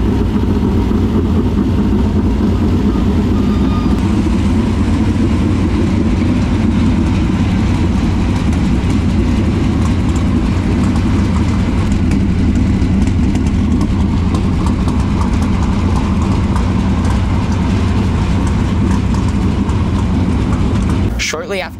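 The 18T race car's engine idles loudly and steadily while warming up at Kennedale Speedway Park, a deep continuous rumble held for over twenty seconds before cutting off abruptly at the end.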